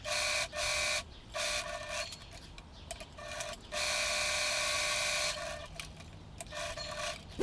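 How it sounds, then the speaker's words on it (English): A sewing machine stitches the open edges of an apron fabric, running in bursts of steady mechanical whirring broken by short pauses, fairly close and with no talking. "I sew the open edges"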